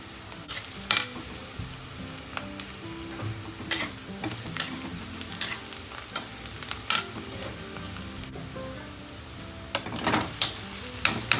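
Curry leaves sizzling in a tempering of mustard seeds and dal, a constant crackling fry with sharp pops and bursts of spitting oil, close and loud with short stirring sounds.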